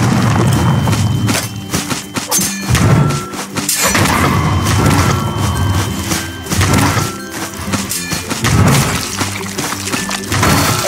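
A bomb goes off in the video game The Hunt, with loud, dense rumbling thuds and crashes that continue without a break.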